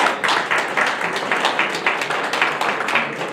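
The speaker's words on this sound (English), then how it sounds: "So let's give him a round of applause." A crowd at a South Sudanese Canadian cultural heritage event in Calgary gives a round of applause, dense steady clapping filling the hall for a few seconds.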